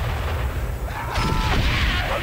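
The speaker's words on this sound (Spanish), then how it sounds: "que nos mandan cañonazos" Cannon fire from English troops' artillery in the World War I game Valiant Hearts, a dense rumbling barrage with low booms rolling continuously under a busy game soundtrack.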